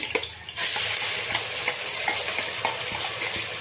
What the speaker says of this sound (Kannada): ಇದು ಹಸಿ ವಾಸನೆ ಎಲ್ಲ ಹೋಗಬೇಕು ಹಾಗೆ ಹುರ್ಕೊಳ್ಳೋಣ ಎಣ್ಣೆನಲ್ಲೇ